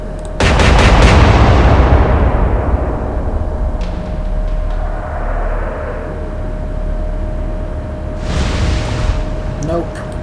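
Heavy naval guns fire in the warship game Atlantic Fleet, a loud booming blast opening the clip and rolling into a long decaying rumble, with a second blast near the end, a voice speaking over it.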